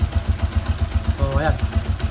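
A Honda Alpha 125 motorcycle converted to a TMX 155 engine idles close by with a steady, pulsing low thump, while someone speaks over it briefly.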